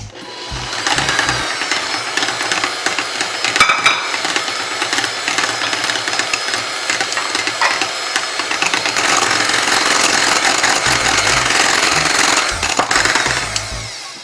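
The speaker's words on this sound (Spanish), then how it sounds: "Ahora vamos a batir las yemas y le vamos a integrar la lata de leche junto con la vainilla" An electric mixer beats egg yolks with condensed milk and vanilla for a cream filling, a steady close motor whir running the whole time with no talking.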